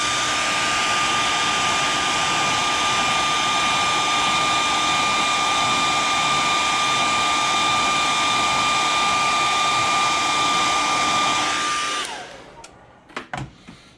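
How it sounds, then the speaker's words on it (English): A heat gun dries paint on a topwater popper fishing lure, a steady loud blowing roar with a fixed whine that runs close by for about twelve seconds, then cuts off and spins down, followed by a few light handling knocks. "hit that with a little heat before I pull it off"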